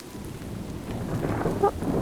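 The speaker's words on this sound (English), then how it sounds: "Oh, it's storming." Steady rain and a low rumble of thunder from a thunderstorm in the Minecraft video game, continuous and fairly loud, with a brief sharper crack late on and no voices.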